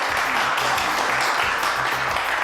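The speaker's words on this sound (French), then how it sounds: "applaudissements, merci" Audience applause at a French television show, a dense wash of clapping that stays steady and fairly loud for the whole stretch with no voices over it.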